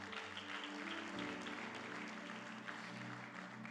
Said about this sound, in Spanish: Con tener una ofrenda de palmas al Rey.